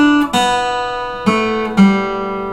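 A bar of guitar notes played alone and close, a few plucked notes with clear attacks and ringing harmonic sustain, a short pause between the first and later notes, no speech.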